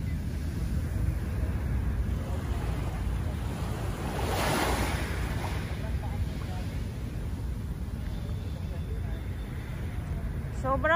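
Waves rolling in at Manila Bay during high tide, a steady loud wash of surf with wind buffeting the microphone throughout, while people talk faintly in the background.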